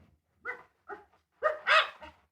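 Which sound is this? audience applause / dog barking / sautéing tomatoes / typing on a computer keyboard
dog barking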